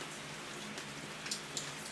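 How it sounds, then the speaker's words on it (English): Steady rain falls outside on a warm, muggy day, a soft continuous patter with a few sharper drops striking nearby surfaces, heard alone without talk. "Even though it's raining out, it's still 70 degrees and"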